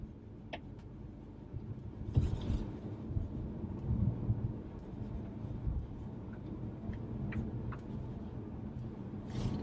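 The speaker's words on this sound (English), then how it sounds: "let you hear how quiet this car is inside" Cabin noise inside a 2016 Honda Civic driving at about 30 to 35 mph in a neighborhood: a low, steady road rumble with faint ticks and a couple of brief louder thumps.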